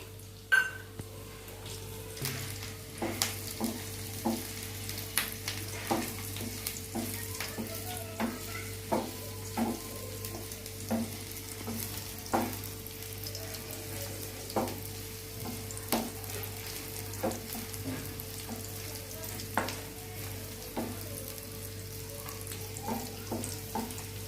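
Onion frying in a pan gives a constant soft sizzle, with light, regular tapping and stirring clicks scattered through it at a calm, steady pace.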